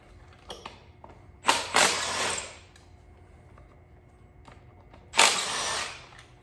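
A power tool spins an engine bolt out of a 2.0T engine in two short bursts, a whirring rattle that rises sharply, runs for about a second, then returns after a quiet pause, close by and with no talking.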